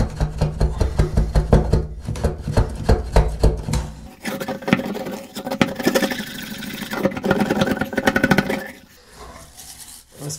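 A brush scrubs gunk out of a smelly shower drain in rapid, rhythmic strokes, with close, wet scraping that shifts to a denser, rougher texture partway through before fading near the end.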